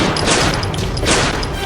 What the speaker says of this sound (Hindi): आज सुबह गोलियों की तड़तड़ाहट से गूंज उठा